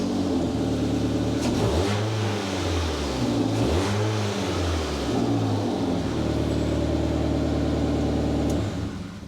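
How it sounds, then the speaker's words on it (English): Exhaust of a 2009 Ford Fiesta with a 1.2 petrol engine and a worn rear silencer, revving repeatedly from idle, the pitch rising and falling in steady swells before settling into a sustained hum, close and loud. "The exhaust note."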